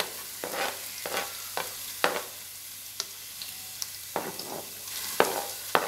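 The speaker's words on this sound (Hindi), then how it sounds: "इन सब चीज़ों को मैं ज़ीरे वाले ऑयल में डाल दूँगी।" Chilli, ginger and garlic crackle and sizzle in cumin oil in a pan with repeated sharp scraping and stirring strokes, close by, with no talking.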